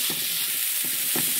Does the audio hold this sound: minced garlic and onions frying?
yes